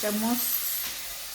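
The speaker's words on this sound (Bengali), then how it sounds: "এখন আদাটা দিয়ে দিলাম, আদাটা দিয়ে একটু কষাইতেছি তেলের মধ্যে।" Ginger fries in hot oil with a steady hissing sizzle, briefly overlapped by a voice at the start.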